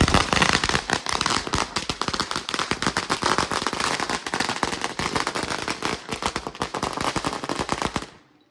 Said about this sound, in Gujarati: હા બહુ હેવી બોમ્બ ફોડ્યો